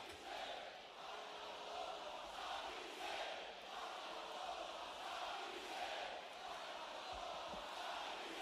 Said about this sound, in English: Can hear the crowd split with their chants.